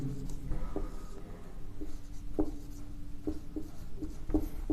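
Chalk or marker writing on a classroom board produces short scratchy strokes and taps in an irregular rhythm, close and moderately loud, with no speech.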